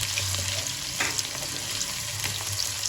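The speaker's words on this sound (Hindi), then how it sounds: "प्याज को फिर मैं फ्राई करूंगी" Sliced onions frying in half a cup of oil in a kadai give a steady, close sizzle with occasional stirring scrapes, heard alone without talk.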